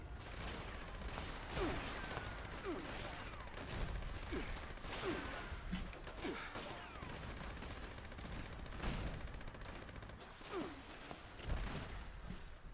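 Gourmand's SMG fires in Fallout 76 in repeated rapid bursts, dense rattling gunfire layered with other game noise.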